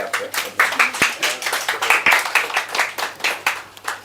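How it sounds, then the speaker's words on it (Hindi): Audience clapping at a Dalit Times celebration of Ambedkar Jayanti, a steady run of brisk claps from a crowd lasting about four seconds with even rhythm, fairly close and moderately loud. "तालियां बजते रहनी चाहिए"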